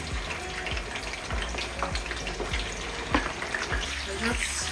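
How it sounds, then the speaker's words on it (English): Chicken pieces fry with onion in hot oil, a steady dense sizzle with sharp crackles and pops throughout, heard at close range with no talking. "It's time to start adding the chicken one after the other."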